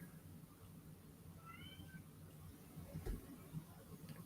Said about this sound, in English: Man, listen to that cat out. Can y'all hear that cat outside of my I door?